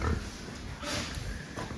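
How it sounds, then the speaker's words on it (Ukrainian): A pig grunts briefly while being weighed on a farm during fattening, the low grunts fairly faint against steady background noise and clatter. "Зараз ми важимо останню нашу свинку"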